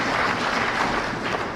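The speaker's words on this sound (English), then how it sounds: "Let's give them a clap again." An audience at a meeting with a Kenyan political leader applauds a speaker with steady, dense clapping throughout.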